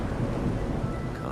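Rain and low thunder in the video game Wuthering Waves form a continuous, dense rumble with steady rainfall and no talk heard over it.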